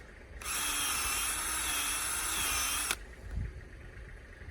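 A power drill whirs steadily at high speed for a few seconds while drilling upward into a maple tree for tapping, then cuts off abruptly, followed by a faint knock.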